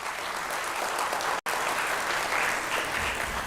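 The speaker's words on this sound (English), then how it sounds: "I request all of you to give a big round of applause to her." A conference audience breaks into a steady, dense round of applause that fills the hall at an even level, with a very brief dropout partway through.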